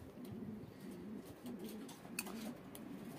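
Carrier pigeons cooing in a loft, soft low rolling coos repeating close by over a faint background hum.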